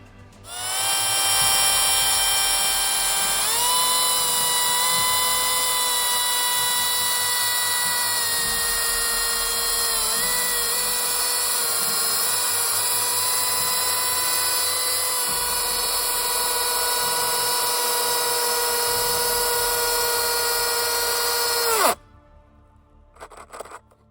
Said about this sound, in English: it definitely felt like the chainsaw was cutting faster with the Stihl chain